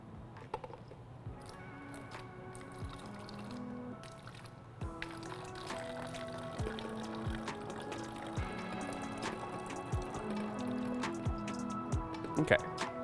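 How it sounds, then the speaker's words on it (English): Liquid pours into an empty 2-liter plastic bottle, a trickling, gurgling fill with drips and sloshing, while a voice talks in the background. "But we're just going to pour this in."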